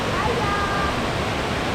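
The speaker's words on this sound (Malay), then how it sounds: "Itu dia. Hari hujan." Rain falls outdoors near a river where a whirlpool is present, a dense steady hiss of broadband noise that stays even for the whole short stretch, with no pauses.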